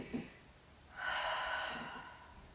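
One long, deep breath drawn in and let out during Pilates stretching on a ladder barrel, airy and close, swelling after a short sniff and then slowly fading.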